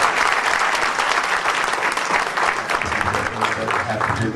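Audience applause at a Martin Luther King Jr. breakfast event in 2010, a steady round of clapping from a seated crowd filling the room, with a speaker's voice coming in near the end.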